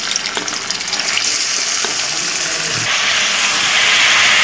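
Paneer cubes dropped into hot oil in a kadhai for shahi paneer, setting off a loud, close, rising hiss and sizzle with a few light clinks, no one speaking.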